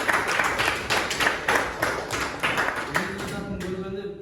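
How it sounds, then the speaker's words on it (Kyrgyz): A school audience applauds prize-winning students with steady, brisk, rhythmic clapping, heard close and moderately loud throughout, with a voice faintly emerging near the end. "ошо окуучуларга да бир кол чабып койлу"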